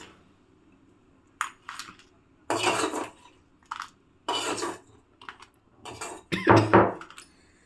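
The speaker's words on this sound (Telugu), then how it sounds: "ఇప్పుడు ఇది బాగా ఫ్రై అయిపోయింది, మనం దంచుకుందాం" Fried amaranth leaves are pounded with salt in bursts of heavy thuds and clattering metal knocks, irregular and close, separated by short pauses.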